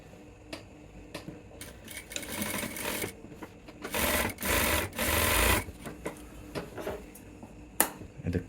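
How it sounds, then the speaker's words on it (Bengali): A sewing machine stitches piping onto a pant cross pocket in short bursts, with soft mechanical ticking and fabric handling between runs and a louder stretch of steady stitching in the middle. "পাইপিংয়ের জাতিটা যেহেতু এই কাপড়টা এভাবে উঠে আসছে এটাকে আমি সেলাই দিয়ে আটকাবো"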